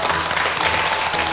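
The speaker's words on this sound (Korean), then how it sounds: "박수 부탁드립니다." A TV talk-show studio audience gives a burst of dense, steady applause for a guest author, filling the short stretch with no voices over it.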